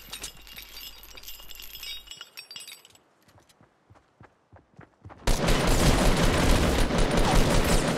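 Gunfire in the Fortnite video game: a run of sharp, separate shots with clinking, glassy impacts, then a sudden loud, dense roar of sustained noise taking over the last few seconds.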